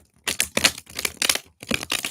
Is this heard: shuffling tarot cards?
yes